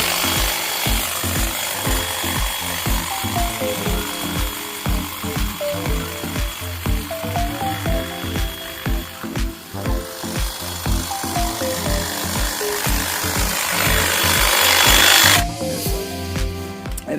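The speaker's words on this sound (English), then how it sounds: "Now, I just have a Skill little battery operated hedge trimmer" A small Skil battery-operated hedge trimmer buzzes steadily while cutting through muscadine vine limbs, a loud close mechanical chatter with rhythmic pulsing as blades bite into the wood, running alone without talk.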